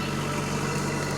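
A Kubota L2502 compact tractor engine runs at a steady idle close by, a continuous low rumble with a faint vibrating hum and no talking.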